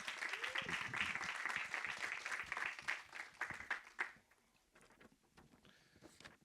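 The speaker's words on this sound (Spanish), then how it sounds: "Un aplauso, por favor, para Raúl." Audience at a Spanish-language screenwriting conference clapping together, a dense patter of applause that fades out after about four seconds, leaving a quiet room with scattered sounds.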